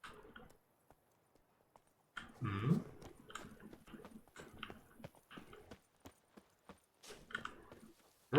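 Roach, the horse in The Witcher 3, munches with soft chewing and snuffling sounds among scattered hoof clops, close up and fairly quiet, with gaps of near-silence between bursts.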